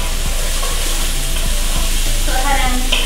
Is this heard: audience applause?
no